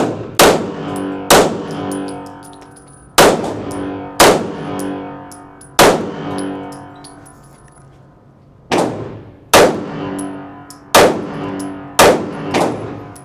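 A Sig Sauer P211 GTO pistol is fired left-handed: about nine loud, sharp shots in uneven spacing, each followed by a ringing decay, with no voices between them.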